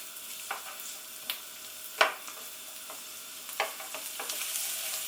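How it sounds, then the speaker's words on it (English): Onions softening in a pan, a steady close sizzle of frying with occasional stirring scrapes and light knocks over the hiss. "All I want to do is start to soften the onions, get some flavours going."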